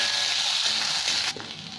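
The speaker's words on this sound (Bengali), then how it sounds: "আর এখানে পেঁয়াজ কেটে রেখেছি 4টে, এটা দিয়ে দিলাম। হালকা একটু নাড়াচাড়া করে নেব।" Four chopped onions drop into a hot pan and get a light stir, giving a steady close sizzling hiss that thins out abruptly near the end.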